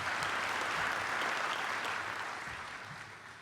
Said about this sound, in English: with a round of applause, we say thank you.